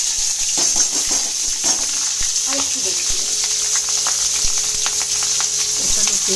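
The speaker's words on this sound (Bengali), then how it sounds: "এবার আমি এই তেলের মধ্যে কোচানো পেঁয়াজ" Sliced onions hit hot oil in a pan while a chicken dish is cooked, giving a steady, fairly loud hiss and crackle with scattered pops and a few soft utensil knocks throughout.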